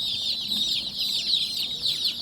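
A flock of native village chicks cheeps and clucks continuously during hot April weather, many high chirps overlapping at close range with no talking.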